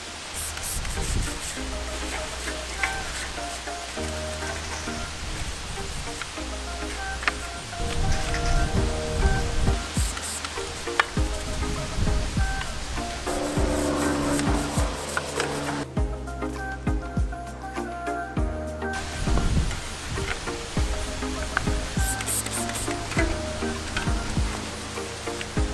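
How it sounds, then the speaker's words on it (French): Brush scrubbing a bicycle during a wash, with repeated wet, rough strokes that stop briefly midway, continuous and close with no talk. "Avec une coupe de brosse, mais on va aller frotter, faire partir le plus gros."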